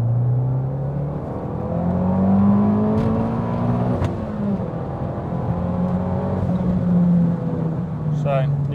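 A 300 bhp big-turbo Abarth 500 pulls hard in second gear in sport mode, heard from inside the cabin, its engine note rising and settling in long sweeps with a brief whoosh near the end, while a voice talks over it.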